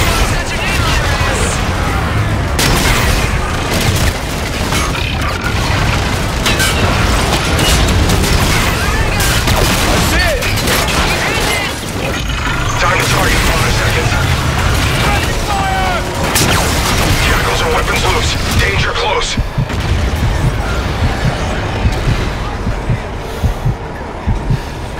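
Air-strike gun run in the sci-fi shooter Call of Duty: Infinite Warfare, a dense, continuous barrage of loud gunfire and explosions layered with voices talking over the combat.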